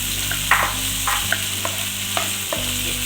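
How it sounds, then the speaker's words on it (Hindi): Chopped tomatoes fry in leftover okra oil for bhindi gosht, a steady sizzle under repeated light stirring clicks and scrapes of a spoon against the pan. "इसी ऑयल में हमने फ्राई करने हैं।"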